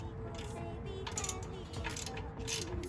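Ratchet clicking while loosening a 17 mm coilover bolt on an 8th-gen Honda Civic Si, with close mechanical clicks and gear-like ratcheting running steadily through the clip.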